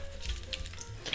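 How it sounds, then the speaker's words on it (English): Shrimp frying in about 3 to 4 cups of neutral oil, a steady close-up sizzle with soft bubbling crackle and no talk over it. "So I'm gonna start frying them."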